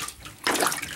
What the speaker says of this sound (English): Splash that water.